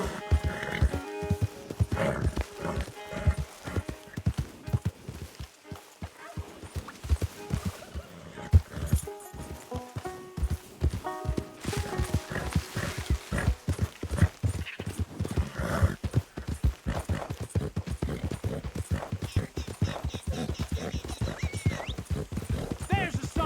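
A horse gallops in Red Dead Redemption 2 with rapid rhythmic hoofbeats pounding nonstop, close and loud, with occasional whinnies and snorts and a voice briefly heard.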